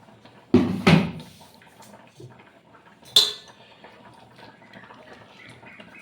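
Jowar flour being mixed with water in a pot for jonna sangati: two sharp clanks of utensil against pot close together, a quieter stretch, then another clank, all up close with no talking.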